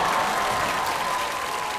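An audience at a televised performance show gives steady, continuous applause that holds at an even level from start to finish, with no speech over it.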